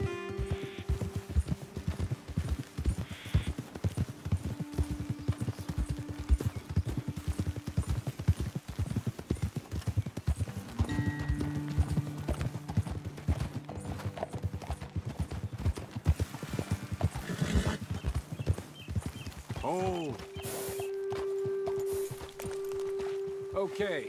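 Horses' hooves clip-clop in a steady walking rhythm throughout a scene in the video game Red Dead Redemption 2, with characters talking over the hoofbeats and occasional musical tones in the background.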